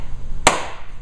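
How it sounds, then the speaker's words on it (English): A hammer strikes an empty can in a physics demonstration, landing one sharp, loud metallic crack alone in an otherwise quiet room. "two hits of the hammer now easily crushed that can"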